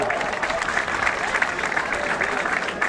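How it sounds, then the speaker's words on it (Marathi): A crowd gives sustained, vigorous applause at a police training centre passing out parade in Dound, Pune, a dense, even clapping that fills the whole moment at close range. "त्या रावतसाठी जोरदार टाळ्या."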